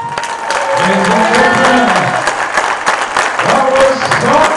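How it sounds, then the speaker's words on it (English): An audience claps after a song at a live performance, a steady round of applause with light cheering, while voices talk over it throughout. "big round of applause"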